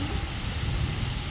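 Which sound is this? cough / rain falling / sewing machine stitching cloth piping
rain falling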